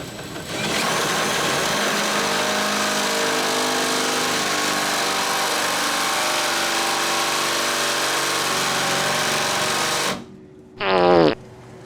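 A loud, steady mechanical whine of a power drill drilling runs continuously for about ten seconds, then cuts off, followed by a brief short burst.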